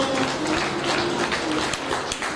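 A standing audience applauds at a Bengali poetry recitation evening honouring a teacher, with dense, continuous clapping filling the space at an even level over a faint tonal hum.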